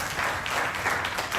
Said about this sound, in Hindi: वेरी गुड, ताली मारो अपने लिए।